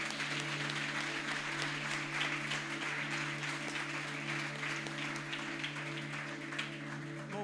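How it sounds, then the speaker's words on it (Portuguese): A church congregation at an evening service applauds steadily for several seconds, broad clapping layered over a sustained keyboard chord that holds throughout. "Você pode aplaudir o Senhor nessa noite?"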